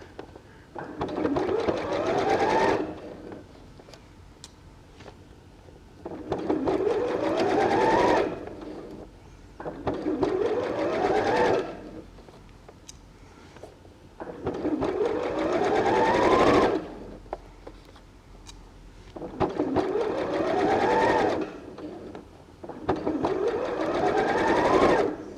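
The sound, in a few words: sewing machine stitching a fabric cat purse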